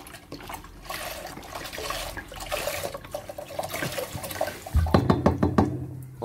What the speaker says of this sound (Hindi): अभी मैं इसमें एक लीटर दूध ऐड करने लगा हूँ